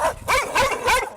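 Stray dogs bark and yelp during an attack on a child, three close, loud bursts of barking in quick succession.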